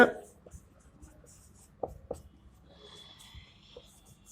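A pen scratches out a maths equation on paper in short, quiet strokes, with a few sharper taps. The writing is close and sparse.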